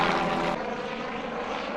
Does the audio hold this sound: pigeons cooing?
no